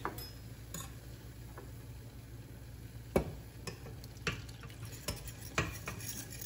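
Spoon stirring meat broth into a thick paste in a pot for beef rib stew, a few sharp scraping clicks and taps spaced irregularly over a low steady hum, close and fairly quiet.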